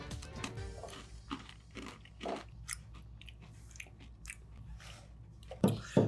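Someone bites into a crunchy toffee Girl Scout cookie and chews it, with close crisp crunches, a few louder bites near the end, and quiet pauses between them.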